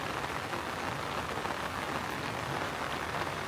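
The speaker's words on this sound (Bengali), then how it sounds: "বৃষ্টির প্রকোপ কোনোভাবে কমতেছে না, আজকে দ্বিতীয় দিন।" Steady heavy rain pours down on a rooftop garden, a constant even hiss of drops with no breaks and no voices.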